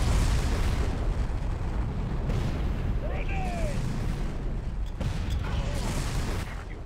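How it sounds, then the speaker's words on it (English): Grenade blasts in the 2004 shooter Far Cry set in a volcano level give heavy, rumbling low booms that roll continuously amid game noise, with a voice speaking briefly. "Let's just throw a lot of nades there and hope it did damage."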